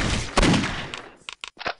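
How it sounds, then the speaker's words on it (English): A rocket launcher explosion in the video game Postal 2 bursts loudly, followed by a sharp blast and a few scattered, fading cracks and pops. "Explosion."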